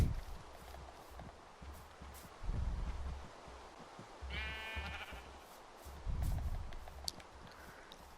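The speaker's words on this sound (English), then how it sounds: "We have now got the brown sheep traveling with us" Sheep bleating in the Minecraft survival game, a herd of brown sheep brought home to the farm, short bleats recurring every couple of seconds over a low shuffling background.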